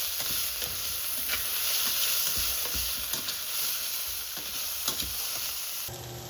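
Risotto with chicken and mushrooms sizzling in a pan while a spoon stirs it, steady frying hiss with repeated soft scraping strokes at an irregular rhythm, close and moderately loud.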